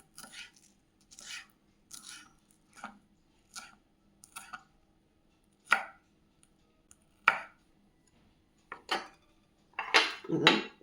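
A knife chops onion stalks on a board in about a dozen crisp, separate strokes with short pauses between them, close up and with no talking.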